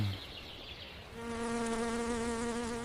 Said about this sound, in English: Buzz? Buzz!